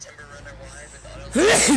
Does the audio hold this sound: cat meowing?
no